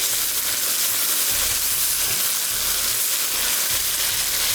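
Aloo qeema kabab mixture frying in a pan, a loud steady hiss of sizzling with faint rhythmic low rumbles underneath throughout.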